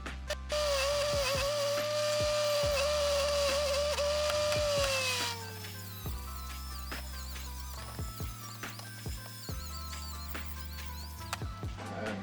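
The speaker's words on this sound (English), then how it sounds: "I'm just gonna grind that all smooth, and so the gasket can seal" A grinder smooths an exhaust pipe end on a car so the gasket can seal: a loud motor whine holds steady, then winds down, followed by sparse clicks and bumps.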